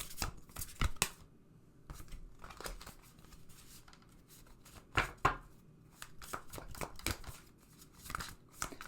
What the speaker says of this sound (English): I love the way this deck looks, and I don't love the way it shuffles.